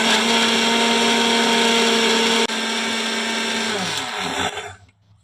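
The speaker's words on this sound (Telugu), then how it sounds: "మనం వేసుకున్న ఇంగ్రీడియంట్స్ అంతా బాగా మిక్సీ పట్టుకునేసినాము" A kitchen mixer grinder runs loud and steady, blending ginger and spices into a smooth paste for a mutton curry, with a brief dip partway through, then winds down and stops near the end, with no voices.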